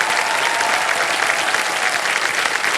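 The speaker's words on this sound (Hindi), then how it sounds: "एक बार जोरदार तालियां बज जाएं इनके लिए।" Loud studio audience applause on a TV quiz show set, a dense, sustained roar of clapping from many hands, steady and close throughout.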